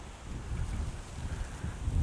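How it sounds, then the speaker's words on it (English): Steady, gusty wind buffets the microphone at a sandy spot in Bathpool Park, Kidsgrove, in autumn, with low rumbling roar rising toward the end and a faint hiss of surf or water in the background. "You can see how windy it is"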